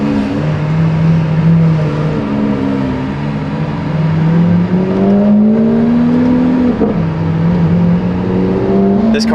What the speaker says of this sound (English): car is so loud even in Strada.